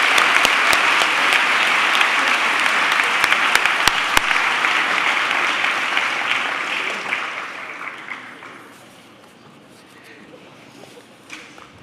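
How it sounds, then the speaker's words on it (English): A crowd claps loudly at a high school class night awards ceremony, with dense sustained applause and a few sharp claps standing out, before it fades to a quieter room murmur. "Round of applause."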